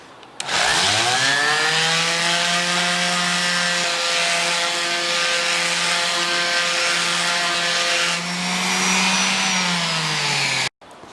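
A handheld electric sander works a wood project clamped in a vise, giving a loud, steady motor whine that runs unbroken for about ten seconds with only slight shifts in pitch.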